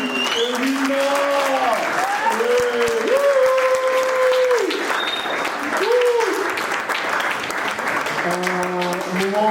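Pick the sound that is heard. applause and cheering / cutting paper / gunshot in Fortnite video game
applause and cheering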